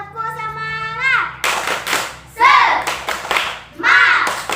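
Fifth-grade schoolchildren in a classroom do the tepuk semangat rhythmic clapping chant, with a voice first, then groups of quick clap bursts mixed with the children chanting together in short rhythmic phrases.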